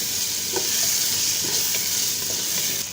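Carrots sizzle steadily in a hot pan, seasoned with black pepper, salt and Chinese salt, while a utensil stirs them with soft scraping taps over the continuous frying hiss.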